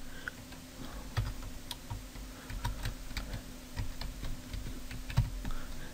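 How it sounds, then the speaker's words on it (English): A computer keyboard is tapped in a quiet room, soft irregular clicks that come one at a time and in short bursts, with a faint steady hum underneath. "Then hit the enter key."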